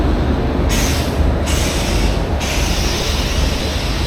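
A passenger train runs along a newly electrified line from Madurai to Bodi, its steady, loud rolling rumble and rattle continuing throughout with no speech.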